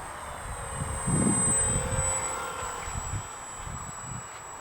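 An airplane comes in to land with a low, steady engine drone that swells briefly and fades, a thin high whine running above it.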